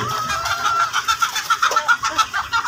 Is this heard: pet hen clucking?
yes